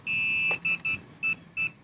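An FPV drone gives a high electronic beep for about half a second while binding, followed by four shorter beeps in an uneven rhythm, clear and close.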